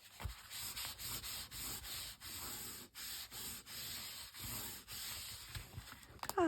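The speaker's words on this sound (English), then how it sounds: "Let me just rub that off because, you know, as per, glue everywhere." Steady rhythmic rubbing of dried glue off a book cover, repeated back-and-forth scratchy strokes close up and fairly quiet, with brief pauses between strokes.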